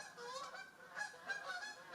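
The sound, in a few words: geese honking flying overhead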